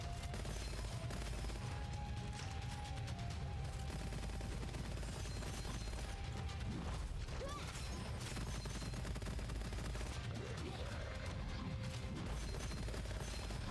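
Continuous rapid fire from the bullet hose weapon in Gunfire Reborn, a dense unbroken stream of shots layered with crashes and impacts, loud and steady throughout.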